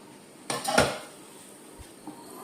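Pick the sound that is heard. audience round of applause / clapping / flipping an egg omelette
flipping an egg omelette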